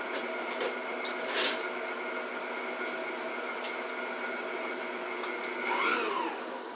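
An electric mixer whirring steadily through quick bread batter for a make-ahead Thanksgiving recipe, a continuous close motor hum with brief scraping knocks near the end.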